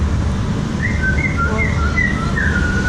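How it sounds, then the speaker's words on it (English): Someone whistles a short melodic tune, clear thin notes over a loud, constant crowd-and-machinery din outdoors at an Easter funfair in Great Yarmouth. "Someone's whistling it now."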